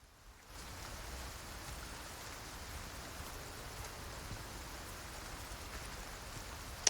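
After a brief quiet opening, a continuous wash of rainfall in the video game Resident Evil 4 Remake sets in, an even patter and hiss that holds steady until the end.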